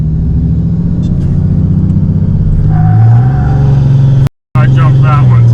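Cummins diesel pickup truck with a 60HP tune building boost, a heavy low rumble rising as revs climb, briefly cut out, then resuming loud with a voice speaking over it.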